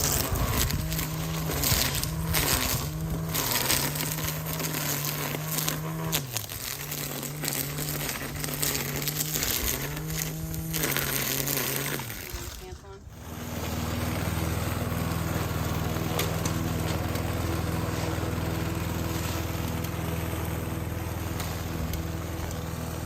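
A string trimmer whirs and buzzes while cutting weeds and vines in a yard, its motor rising and dipping with the work, then cutting off and giving way to a lower, steady engine drone.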